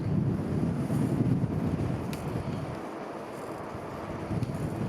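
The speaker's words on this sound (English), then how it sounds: "But boy, this wind is gonna be a knocker." Strong wind buffets the microphone during a bike ride through Gulf State Park, a steady loud low rumble with gusts that surge and ease, no talking.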